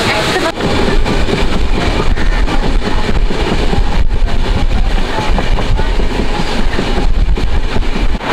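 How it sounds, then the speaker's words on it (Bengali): Passenger train on the Santiniketan to Kolkata route running steadily after departure, a loud continuous rumble and rattle of the carriage with faint clickety-clack throughout. "ছেড়ে দিয়েছে এখন আমাদের ট্রেন পুরো পারফেক্ট টাইমে 1টা 10-এ"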